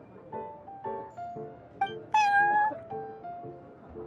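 A cat character in the video game Genshin Impact meows several times in a row, with one higher, drawn-out meow standing out clearly over soft background music.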